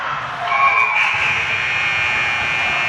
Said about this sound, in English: At the buzzer for the second.